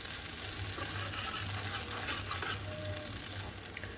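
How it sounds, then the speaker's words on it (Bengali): Tomato, ginger and spice masala stirred and sautéed in a pan gives a steady close sizzle of frying with scraping stirs throughout and no talking. "ভালো করে একদম কষিয়ে নিতে হবে যাতে টমেটো আর আদার কোনো কাঁচা গন্ধ না থাকে মশলাটার মধ্যে"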